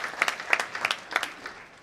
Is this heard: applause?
yes